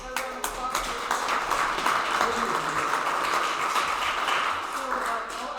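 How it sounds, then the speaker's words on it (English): Lecture audience giving a sustained round of applause in a saloon hall, steady clapping from many hands with some voices mixed in. "Another round of applause."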